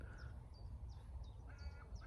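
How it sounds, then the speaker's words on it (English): An outdoor bird calls repeatedly in short rising chirps, about six across two seconds, faint over a steady low rumble of wind or traffic. "can you hear that bird?"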